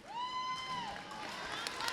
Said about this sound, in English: Cheering loudly for USA every time they score, every time something good happens